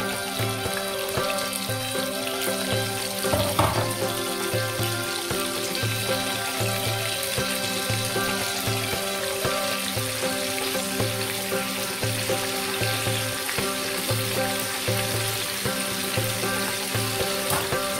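Tempeh sizzles and crackles in hot frying oil, a steady close frying hiss running throughout with no speech.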